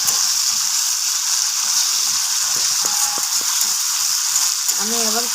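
Onion masala sizzles loudly and steadily in a pan after a little water is added for a Bengali katla fish curry, with a few scraping clicks near the end.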